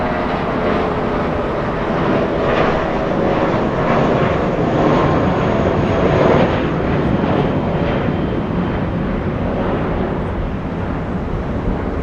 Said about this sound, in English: That was an A380 using 25 right for departure.